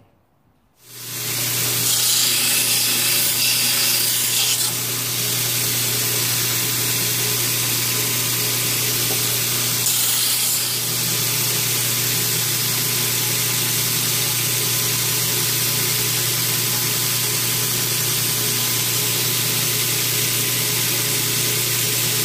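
Belt sander grinding the handle of a knife made from a steel file, with epoxy-fitted handle material: a loud, unbroken abrasive roar that starts abruptly and holds steady for about twenty seconds close by.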